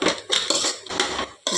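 Beetroot stir-fry being mixed in a pan, a rapid run of loud, close metallic scrapes and knocks from a spoon against the pan, ending with a clattering hit as a lid goes on; no voices.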